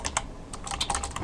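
Quick, irregular keystrokes on a computer keyboard, close and fairly quiet, with a cluster of clicks near the start and another run toward the end.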